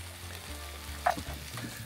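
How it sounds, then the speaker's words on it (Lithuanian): A whole chicken roasts on a pitchfork, giving a soft, steady sizzle and crackle over a low droning hum, with one brief sharper pop midway and no voices. "Va taip, ant šakių kepam vištą."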